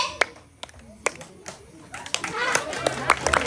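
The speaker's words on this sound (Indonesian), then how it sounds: "Tepuk tangan." A group clapping hands at a gathering, starting with sparse separate claps and building into quicker, denser clapping, with voices talking underneath.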